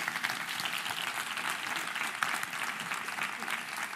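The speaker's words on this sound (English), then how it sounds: "Please an applause to warm up the environment" Conference audience at a panel debate applauds the invited guests, a steady patter of many hands clapping at moderate level, fairly distant and uniform for the whole stretch.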